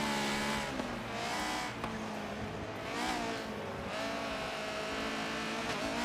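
Subaru BRZ and Honda S2000 race cars compete at Homestead, their engines roaring and revving steadily with overlapping passes and shifting pitch, loud and continuous throughout.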